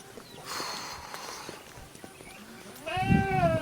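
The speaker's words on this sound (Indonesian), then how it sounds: "Ini kandang kambing ya." Goats bleating in a goat pen at a rural forest home, a couple of mid-distance calls early on and a louder, nearer bleat at the end, with rustling and footsteps in between.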